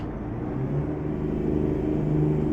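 A Mack R truck engine in Euro Truck Simulator, hauling a long double trailer with lightweight cargo up a slight gradient, rumbles steadily and rises in revs after a downshift, close and continuous with no talk.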